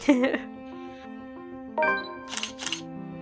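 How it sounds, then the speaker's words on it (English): A camera shutter fires twice in quick succession, sharp bright clicks near the end over a sustained game music tone, following earlier short voice sounds. "I fucking love the camera noise of the shutter"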